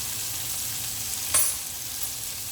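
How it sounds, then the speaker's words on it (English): Butter being gently whisked into a simmering red wine reduction sauce over lowered heat, giving a steady soft sizzle with a faint stirring scrape and one brief louder clink. "So just put some butter in there, turn the heat down so it's not boiling vigorously, and you just gently whisk that butter into it"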